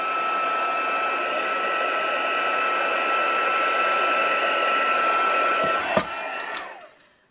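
An embossing heat tool blows steadily on embossing powder over thin vellum, a loud, even whirring hiss lasting about six seconds before a couple of clicks as it shuts off and winds down.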